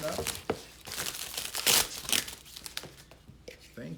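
Plastic packaging around a replacement part for a Whirlpool Roper washer is torn open and crumpled up close, giving loud crinkling and ripping bursts that rise to a sharp tear midway; a voice speaks briefly alongside.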